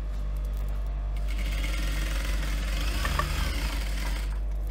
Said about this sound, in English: put the foot down and continue sewing